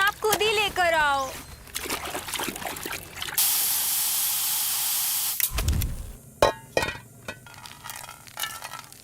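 A sharp burst of broadband hiss and sizzle as spices hit hot oil for tempering, holding steady for a couple of seconds, with voices talking before and after.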